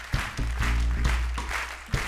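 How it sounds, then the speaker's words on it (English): Concert audience applauding the sound engineer at a jazz show, continuous clapping with a few sharper claps standing out near the start and end. "Merci de l'applaudir également"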